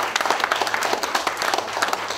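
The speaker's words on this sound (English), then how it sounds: "Let's give her a big round of applause." Audience applause at a car giveaway event, a dense burst of many hands clapping, close and loud, sustained throughout.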